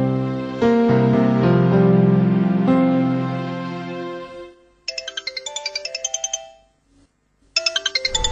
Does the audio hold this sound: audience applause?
no